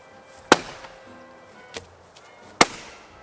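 Three sharp axe chops into lightered pine wood, each a crisp isolated whack spaced about a second apart, close and loud outdoors with quiet between strikes.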